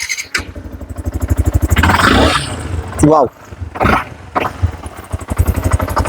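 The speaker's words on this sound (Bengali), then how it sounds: "এটা স্টার্ট করে শোনানো যাবে আমাদের অবশ্যই দেখো আঠারো আর ওয়ান ফাইভ এস" A used Yamaha R15 S motorcycle in good condition starts and idles close by, its engine pulsing and rising into a roar before settling back to a rapid idle, while people talk and exclaim over it.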